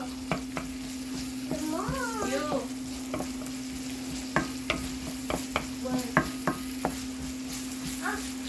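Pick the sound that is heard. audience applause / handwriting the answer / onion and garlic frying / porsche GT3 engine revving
onion and garlic frying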